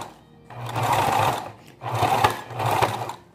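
A sewing machine stitches eyelet lace onto a towel in two close, steady motor-driven bursts separated by a short pause, the needle's rapid whir clear and prominent.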